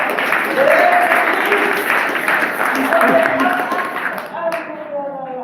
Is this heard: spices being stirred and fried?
no